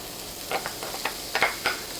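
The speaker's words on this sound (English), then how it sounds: "we're just going to saute this up just a little bit, just to kind of get it sweating, get it going" Onion sautéing in a pan, a soft faint sizzle broken by a few light stirring scrapes, close and brief with no voices.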